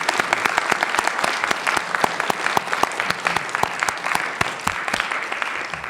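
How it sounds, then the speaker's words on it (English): A crowd claps for a panel at a talk, steady, dense and sustained throughout, with sharp individual claps standing out near and loud. "let's give our panelists a round of applause."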